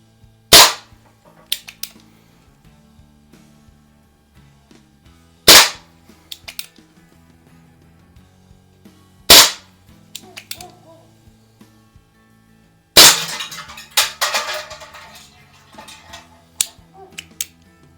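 A Hahn 45 CO2-powered BB revolver made by Crosman in 1958 fires four sharp, snappy shots several seconds apart, each trailed by small clicks and rattles, the last one followed by a longer burst of handling noise.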